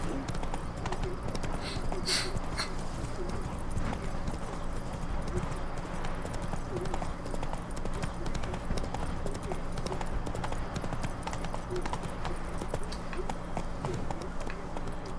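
Horse Roach galloping in The Witcher 3, a steady rapid drumming of hooves running continuously under a dense, noisy game soundscape, with a voice briefly present.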